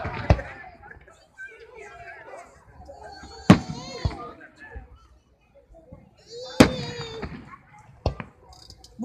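Fireworks go off outdoors at Keansburg, with several sharp, loud bangs spaced a few seconds apart and crackling, whistling trails. People talk and react in between the blasts.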